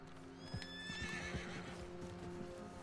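A white horse in the video game Red Dead Redemption 2 lets out a clear, close neigh with hooves clip-clopping underneath, short and fairly quiet.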